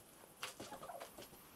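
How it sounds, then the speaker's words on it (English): Two cockerels on a farm, faint clucking and short crowing calls at a distance against a soft outdoor background, no talking. "The two cockerels are Rhubarb and Custard"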